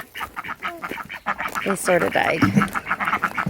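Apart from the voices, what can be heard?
ducks quacking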